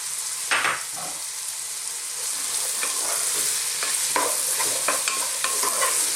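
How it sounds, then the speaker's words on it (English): Carrots and celery tossed in a pan over medium heat for a vegan vegetable pasta, a steady sizzle broken by a string of sharp clattering stirs, close and alone with no talking. "we're just going to kind of throw these around in the pan for about 3 or 4 minutes just to get them started"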